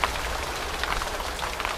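Steady rain patters down on an outdoor bonsai garden, a dense even hiss of drops on leaves and surfaces with no voices over it.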